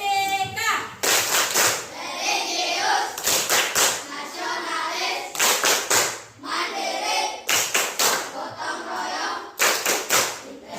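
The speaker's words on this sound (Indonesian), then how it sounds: "Tepuk tangan untuk semua" Schoolchildren in a classroom clapping in rhythmic patterned bursts of a class cheer, loud and close, with short pauses between the groups of claps and children's voices mixed in.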